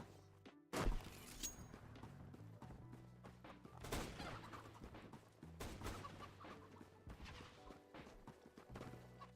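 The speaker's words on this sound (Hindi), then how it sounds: "अरे यार इतनी सारी मुर्गी क्यों है" Chickens in the CS:GO video game cluck in a dense, busy game soundscape, mixed with repeated sharp impacts, thumps and gunfire-like bursts, heard fairly close and quiet overall.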